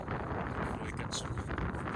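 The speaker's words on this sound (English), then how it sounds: "It's getting a bit windy now." Strong wind buffets the microphone on a snowy winter ridge in Snowdonia, a steady roaring rumble that stays loud and constant throughout, with no clear voices over it.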